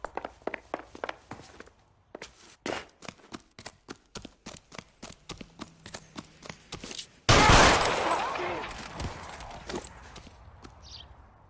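Gunfire from the 1940s Los Angeles detective game L.A. Noire: a long run of sharp shots popping in irregular bursts, then a loud sustained blast of noise that slowly fades.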